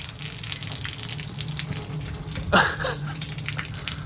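Rainwater gushes out of a leaky car trunk with worn seals in one brief splashing burst midway, set against a low steady background hum.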